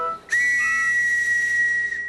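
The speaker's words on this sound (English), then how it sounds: "Now, where's my whistle?" A single whistle is blown in one loud, shrill, steady tone lasting almost two seconds, close and clear with no voices.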